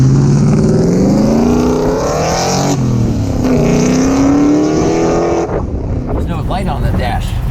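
A 1969 Chevrolet Chevelle muscle car's V8 roars loudly and steadily up close, its engine note climbing and falling through revs for several seconds before easing near the end.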